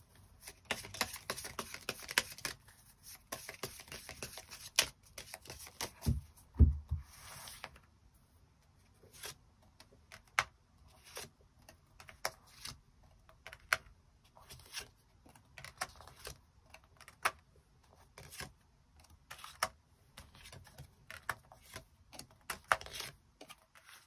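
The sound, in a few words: shuffling tarot cards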